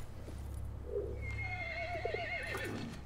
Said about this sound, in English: Oh, and a horse, boop, just pops up right there.